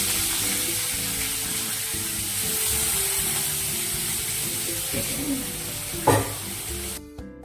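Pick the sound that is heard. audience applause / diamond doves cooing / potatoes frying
potatoes frying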